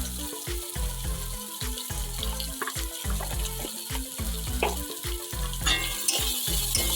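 Dried shrimp and taro stolons frying with turmeric powder, a continuous crackling sizzle broken by repeated scraping strokes of stirring in an even rhythm, close and without talk.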